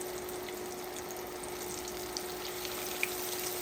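Pork chops fry in a pot of oil heated to 350 degrees, giving a steady, faint, even sizzle with a few small pops.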